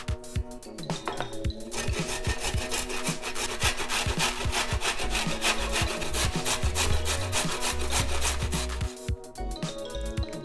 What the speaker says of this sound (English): I like to use the fine side of the grater as opposed to the chunkier side because it makes